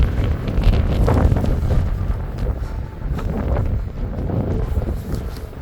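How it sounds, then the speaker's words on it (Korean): Gusty wind buffets the microphone near the cruise terminal at Naha port, Okinawa, a steady low roar that swells and eases throughout with no other clear sounds. "왜 이렇게 갑자기 바람이 불까요?"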